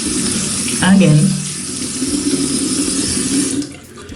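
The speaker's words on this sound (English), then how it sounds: "So I'm just gonna wet my face now." A bathroom tap runs steadily while a face is splashed and wetted during an at-home facial, the water loud and near; a voice briefly speaks over it.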